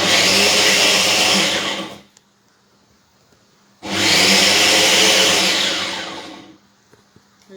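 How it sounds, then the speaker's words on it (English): A heavy-duty blender runs loud and close in two whirring bursts of about two to three seconds each. A near-silent pause separates them. "It's a heavy blender. It's a heavy duty blender."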